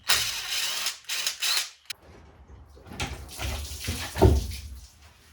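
Fluid gushes and splashes out of a failed $50 BMW engine, a loud bright splattering in bursts over several seconds with a short break and a heavier splash near the end.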